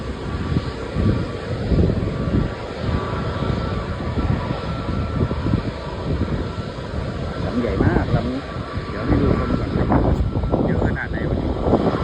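A TUI Airways airliner passes with a steady, loud engine roar that swells and holds across the whole stretch, heard outdoors while people talk over it.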